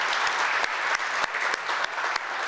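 Audience applause in a room at a chamber of commerce business recognition breakfast, a steady dense wash of clapping with a few sharper individual claps standing out, sustained at even loudness throughout.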